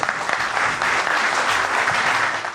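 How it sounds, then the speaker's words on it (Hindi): A crowd at a television show breaks into sustained applause, dense and fairly loud hand-clapping that continues evenly throughout. "आपकी ढेर सारी तालियां।"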